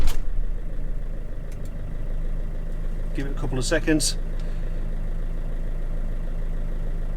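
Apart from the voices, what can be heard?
vehicle engine starting and idling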